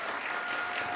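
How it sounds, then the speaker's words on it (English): Audience applause at a live tableside conversation event, a dense steady wash of clapping from a seated crowd for the full second, loud and continuous with no voices. "Let's give everybody on the couches a round of applause"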